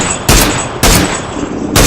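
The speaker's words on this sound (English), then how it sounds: "That's the brand new sniper rifle." Loud sniper rifle gunshots from the video game PUBG, a newer rifle with a 3x scope, three sharp broadband cracks about three-quarters of a second apart with no talking.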